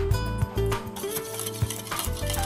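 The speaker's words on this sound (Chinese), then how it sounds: "加入碎红茶叶搅拌" A utensil stirs chopped black tea leaves into vegan madeleine batter in a bowl, making repeated scraping and clinking strokes in an uneven rhythm, close and fairly loud, with no voices.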